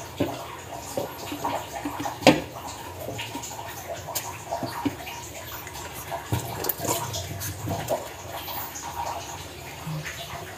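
Floodwater from nonstop rain fills a narrow alley beside a house, giving a continuous low wash of moving water with scattered splashes and knocks, fairly close, and no one speaking.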